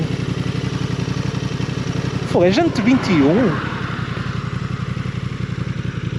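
A Honda Transalp 750 motorcycle engine runs at a steady, even throb while someone speaks briefly over it.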